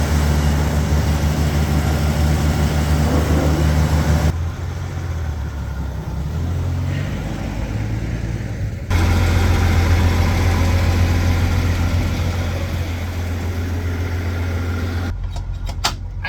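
A Ford Bronco engine idles steadily after cranking over, having sat unused for two months. A loud, continuous low rumble holds throughout, with a brief dip in the middle and no talking.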